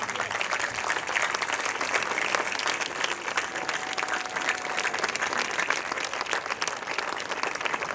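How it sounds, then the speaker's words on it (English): An audience at an arts festival event rises in a standing ovation, dense continuous applause filling the hall at a steady, loud level throughout with no pauses. "please give a standing ovation for these heroes"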